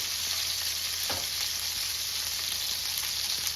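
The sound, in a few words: hand cut pork chops searing in a pan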